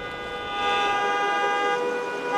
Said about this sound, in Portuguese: como você pode ver, carros buzinando aqui, congestionamento intenso no sentido bairro centro de Manaus